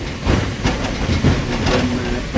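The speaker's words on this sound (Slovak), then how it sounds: "Mašina bola vlastne najdokonalejšia, najrýchlejšia párna lokomotíva Československa." Albatros 498.104, a Czechoslovak steam locomotive, rumbling loudly with rhythmic rail clatter and hissing steam, a steady heavy mechanical roar.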